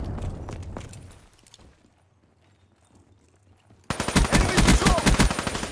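Machine gun fire in the shooter game Call of Duty Black Ops 3: a few scattered shots fade into near quiet, then a loud burst of rapid automatic fire erupts and keeps going.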